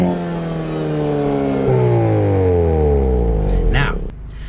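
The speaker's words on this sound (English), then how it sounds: "if you would happen to rev it up in any one of those modes, this is what the car would sound" A 2022 Hyundai Kona N in normal mode revs up: a close, loud engine note climbs in pitch, holds high, then drops off sharply near the end, with no talk over it.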